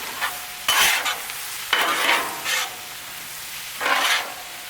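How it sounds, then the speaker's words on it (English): Cabbage being stirred in bacon grease on a Blackstone griddle: a soft continuous sizzle broken by a few loud scraping pushes of the spatula across the flat top, close and without talk. "Now let's start mixing it. Make sure you get all that bacon grease."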